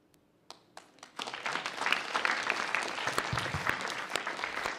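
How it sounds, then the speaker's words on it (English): Audience applause at a youth summit conference, a few scattered claps at first, then swelling into sustained, steady clapping from a large crowd. "One more round of applause."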